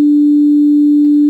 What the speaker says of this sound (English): take that sine wave and to play an actual note